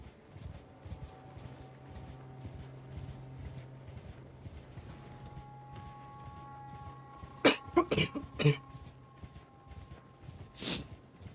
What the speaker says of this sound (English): I have a feeling that my microphone picked up my horrid coughing